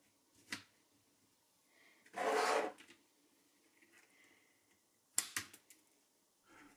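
Back cover clips of a Lenovo ThinkPad E15 Gen 2 laptop pried loose, scattered plastic clicks and snaps with a longer scraping rasp in the middle, close and quiet.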